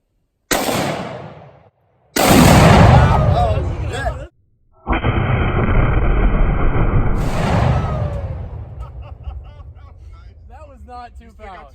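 Rifle shots from an AK47 set off a tannerite explosive outdoors, bringing a sharp blast and a long rumbling roar. People talk around the loud, close bursts.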